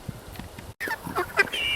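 Meat chickens on an off-grid homestead give a few brief, soft clucks and calls, close by, after a moment of quiet rustling.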